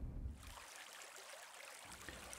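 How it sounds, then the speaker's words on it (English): Upland burn flowing out of Loch Muck, a small low-nutrient lake in Donegal's Upper Finn catchment, gives a steady, fairly faint broadband rush of running water with no voices. "The Stranach Upper is the outflowing channel from Loch Muck"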